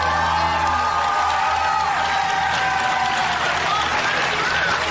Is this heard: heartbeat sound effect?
no